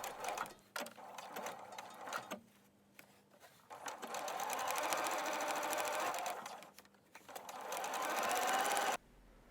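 A sewing machine stitches a seam on a jacket, its motor running in steady bursts with short pauses between runs, close and fairly quiet with no talk.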